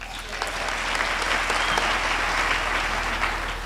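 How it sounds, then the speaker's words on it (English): Sustained audience applause at a university graduation ceremony on the VUT main campus: a dense, even wash of many hands clapping that swells slightly and holds steady for several seconds. "Another round of applause for Mr. Vumza Nomanyama."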